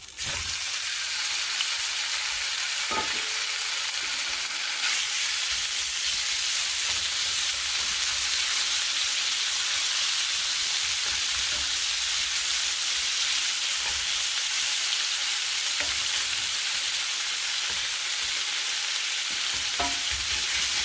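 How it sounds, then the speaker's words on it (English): Skirt steak sizzles steadily in a hot oiled pan, a loud, continuous broadband frying hiss with a few sharp pops and clicks scattered throughout, heard alone without talk. "Okay, we got some oil in the pan. Our pan is hot. We're going to go ahead and throw our skirt steak in."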